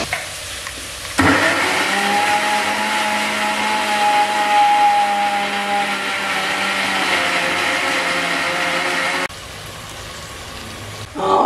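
A mixer grinder whirs steadily for about eight seconds, grinding fried ingredients with tomato, mint and coriander leaves, its loud motor hum starting abruptly and cutting off near the end.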